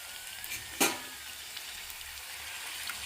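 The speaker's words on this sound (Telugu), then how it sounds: "లో ఫ్లేమ్లో పెట్టుకొని ఫ్రై చేసుకోండి." Pani puri puris fry in hot oil over a low flame, giving a steady close sizzle and bubbling with a single sharper splash or stir partway through.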